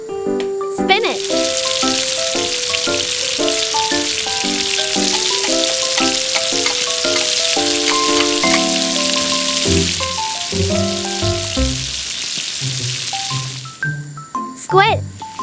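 Spinach stir-fried in cooking oil in a miniature pan in a tiny kitchen, a continuous bright sizzling hiss lasting several seconds under tonal music, then cutting off near the end.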